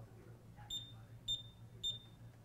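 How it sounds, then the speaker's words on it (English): An automatic gate control board, learning a remote, gives three short, high beeps evenly spaced about half a second apart, faint over a low steady hum. "You'll get a green LED and a beep."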